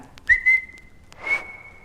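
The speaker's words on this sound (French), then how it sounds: "sais-tu siffler comme cela?" A person whistles a short, clear high note, holding it briefly, then a second sustained whistle follows after a pause; close and distinct.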